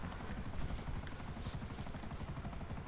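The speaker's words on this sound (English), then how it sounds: "Oh great, the chopper's already cutting out." Helicopter engine in a video game, a faint, steady rotor drone with a dense low rumble throughout and no speech over it.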